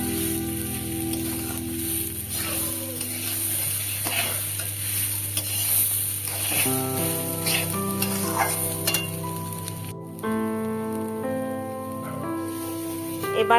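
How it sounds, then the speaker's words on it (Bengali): Rice for basanti pulao sizzles loudly in hot oil while being stirred and scraped around a kadai, continuous and close, with steady music playing underneath. "এবার চালটা একটু হালকা করে বেশ নেড়ে চেড়ে নেব"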